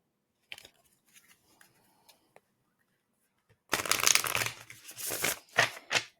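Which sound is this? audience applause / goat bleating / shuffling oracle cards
shuffling oracle cards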